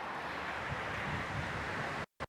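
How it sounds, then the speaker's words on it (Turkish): Steady, roaring strong wind buffets a wireless microphone in a continuous broadband rush, cutting out briefly near the end. "Şu anda anormal derecede rüzgar arttı bu bölgede."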